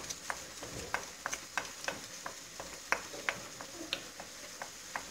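Harira soup with lentils and rice stirred in a pot, a spoon making steady, evenly spaced scraping strokes close up, with no talking.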